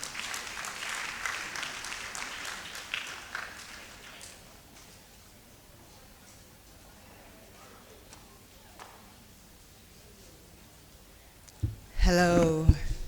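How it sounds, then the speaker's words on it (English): Applause from an audience at a university faculty event for an environmental health officer, a moderate clatter of clapping that fades to near quiet, ending with a voice speaking close up. "A round of applause to her."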